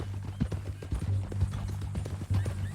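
Horse hooves clip-clop steadily on the ground in the Red Dead Redemption 2 game, a close, continuous rhythm of hoofbeats over a low ambient hum, with no talking.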